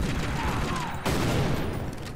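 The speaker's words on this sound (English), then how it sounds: "Stop fucking shooting!" Gunfire in Tomb Raider Legend, set in Peru: a dense, continuous rattle of shots and game noise sustained throughout, loud and close.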